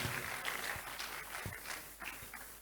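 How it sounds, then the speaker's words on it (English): Audience applause at a data privacy day celebration event, a dense steady patter of many hands clapping at moderate level across the whole moment, with a few heavier low thumps mixed in. "Another round of applause for her once again, please."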